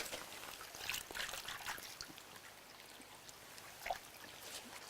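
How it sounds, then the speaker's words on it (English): A creek flows softly through a quiet rural property in Speewah, Queensland, its faint, steady trickle and small splashing bursts sounding close but gentle, with no voices. "I don't know if you can hear the creek"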